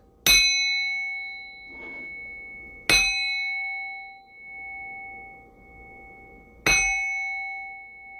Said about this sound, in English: I need to ring this bell real quick.